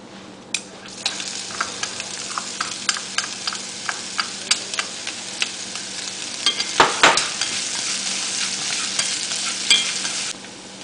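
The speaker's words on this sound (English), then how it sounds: "Add an onion and stir-fry for 1 minute." An onion stir-fries in a pan, a continuous loud sizzle broken by repeated sharp clicks and scrapes of a spatula, with one louder clatter partway through.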